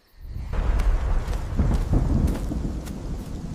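Thunder rumbling low and heavy through steady rain, a loud rolling peal that swells within the first second and lingers, with the patter of rainfall underneath.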